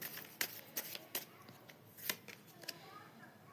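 Tarot cards are shuffled close up in a series of sharp riffling snaps at uneven intervals over a soft background rustle, with a voice talking underneath.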